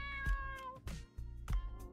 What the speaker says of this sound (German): Unsere Katze will außerdem noch was zu futtern haben.